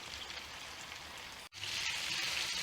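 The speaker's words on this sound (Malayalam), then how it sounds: "അങ്ങനെ തിരിച്ച് മറിച്ചിട്ട് ഒന്ന് നമുക്ക് ഫ്രൈ ആക്കി എടുക്കാം" Chicken pieces fry for biryani in a pan, giving a steady, dense sizzle with a crackling hiss broken by one brief dropout partway through, with no talking.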